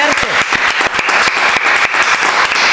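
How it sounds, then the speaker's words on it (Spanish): Closing applause for a Marbella local programme: dense, steady hand clapping from a nearby group, loud and continuous throughout with no voices over it. "Creo que le damos un aplauso a Marbella, te quiero. Muy fuerte."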